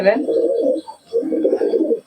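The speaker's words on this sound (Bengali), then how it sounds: "পায়রা দেখাচ্ছি" Malbai pigeons coo in two long, low, throaty rolls close at hand, separated by a brief pause.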